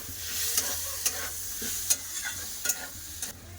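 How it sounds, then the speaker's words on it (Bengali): Flat beans fry in a pan with onion and chili powder, giving a steady broadband sizzle broken by several sharp scraping stirs at irregular intervals, close and fairly loud. "পেঁয়াজ দিয়ে দিচ্ছি লঙ্কা গুঁড়ো না ভালো করে সব একসাথে ভেজে নেব"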